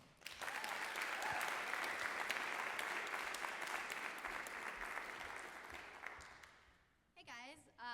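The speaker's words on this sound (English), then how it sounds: "please give her a round of applause" Audience at a spoken word and poetry night applauding steadily for about seven seconds, loud and sustained with a few whoops, then fading as the clapping dies out and a voice begins.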